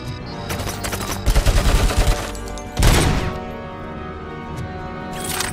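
An Uzi submachine gun in the video game Robocop: Rogue City fires several loud, rapid, ragged bursts, close and dominant, followed by a heavy crashing impact and a trailing rumble.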